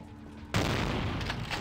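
An enemy's shotgun blast in Vampire: The Masquerade - Bloodlines, one sudden loud shot after a quiet lead-in, followed by a long, rough, noisy tail.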